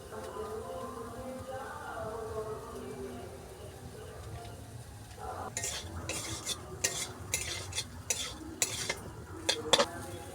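A spoon stirs soybean curry in a pan after Kashmiri dry chili powder goes in, with a soft background sizzle and a run of sharp, irregular scrapes and clinks against the metal in the second half.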